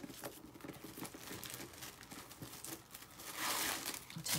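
Tissue paper crinkling and tearing as it is pulled out of skincare product packaging, steady close rustling throughout with a louder burst of crumpling near the end.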